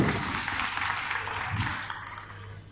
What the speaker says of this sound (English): and with the applause, we already know they're correct.